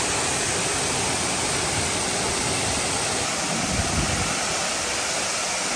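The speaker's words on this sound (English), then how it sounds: "What do you guys think of this waterfall?" Petanu waterfall in Ubud, Bali roars in a steady, dense, loud rush of falling water, heard close and alone with no voices.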